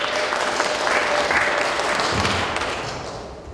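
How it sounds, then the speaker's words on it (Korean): An audience at a lecture on student movement history claps in steady applause to welcome a speaker, a short burst that tapers off at the end. "큰 박수로 환영해 주겠습니다"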